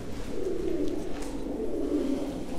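A Mardin tumbler pigeon coos in low, soft, rolling phrases, two swelling coos heard close over a steady background hum, with no talking.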